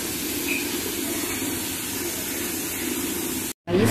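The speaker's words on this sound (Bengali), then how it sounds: "যার জন্য আরো দুটো সিটি ফেলে নিলাম।" A pressure cooker on the stove, cooking dal, vents steam as a continuous loud hiss that runs for several seconds, then cuts out abruptly before noise resumes.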